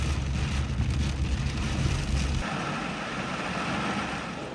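Rain falls in a steady, dense hiss with a heavy low rumble early on that drops away partway through, leaving an even wash of rainfall alone.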